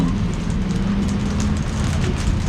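Rain falls during a canal boat trip in Bangkok, a steady broadband wash heard alongside a continuous low boat engine rumble, no talk.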